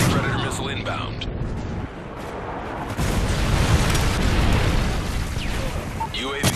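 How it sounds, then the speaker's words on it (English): A friendly Predator missile strike lands in a multiplayer shooter match, a loud rumbling explosion that swells from about three seconds and sustains through the clip, thick with crackling debris and overlapping gunfire. "Friendly Predator missile inbound."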